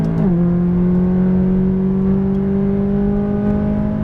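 A McLaren 570S on a track drops in pitch right after an upshift, then its engine tone climbs gradually as it accelerates. The loud, steady drone is heard from inside the car with no talk.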